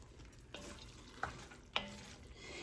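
Bacon and cabbage being stirred in a pot on the stove: three distinct scraping clinks of a spoon against the pot, spaced about half a second apart, over a faint steady background hiss.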